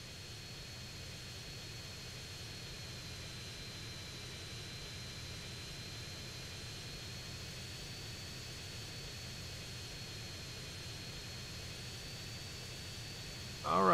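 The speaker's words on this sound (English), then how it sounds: "I'm going to take this plane over to my little airstrip" A plane engine in Grand Theft Auto San Andreas drones steadily and evenly for the whole stretch, a constant broadband roar with a faint high whine on top. A sudden louder burst comes at the very end.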